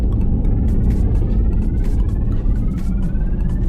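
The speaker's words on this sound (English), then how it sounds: "See, I'm gassing it" Jeep Commander 4X4 stuck in transmission limp mode, the engine droning loudly and steadily as the throttle is pressed without the vehicle gaining speed, heard from inside the cabin with constant low rumble.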